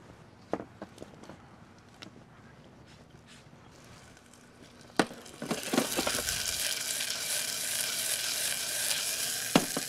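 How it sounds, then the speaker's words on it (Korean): Onions stir-frying in a heated pan: a few scattered clicks and scrapes, then a loud, steady sizzle bursts up midway and continues to the end, with an occasional sharp clatter. "팬이 어느 정도 달궈진 뒤에 양파 넣으셔서 살짝 볶아 주시고요"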